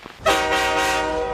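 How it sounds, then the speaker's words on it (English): A train horn blasts at a train station, starting abruptly as one loud, steady, sustained tone that holds for over a second after a brief quiet lead-in. "This is a train station."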